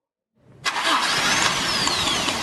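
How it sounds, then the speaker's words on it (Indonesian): A car engine is started by its electric starter motor: a brief low whir of cranking, then a sudden catch into a loud, steady running roar that continues to the end, with no talk. "Menghidupkan kendaraan membutuhkan daya gerak awal yang besar. Daya gerak tersebut diperoleh dari motor listrik yang disebut motor starter."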